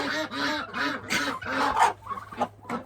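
Backyard chickens given extra grain treats cluck and squawk loudly in a rapid run of close, repeated calls, then break into more scattered bursts.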